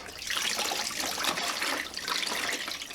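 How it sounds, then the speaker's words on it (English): Water pouring steadily into a portable microfiber mop bucket, a continuous bright splashing rush lasting the whole moment, close and fairly loud with no talking. "You simply add water to the bucket,"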